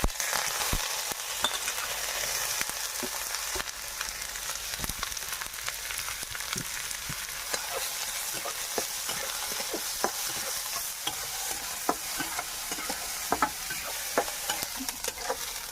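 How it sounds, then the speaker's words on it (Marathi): Onion frying in oil, a constant close sizzle with frequent sharp scraping and tapping strokes of a spatula stirring the pan, steady and uninterrupted, with no voices. "कांदा चांगला भाजून घ्यायचा"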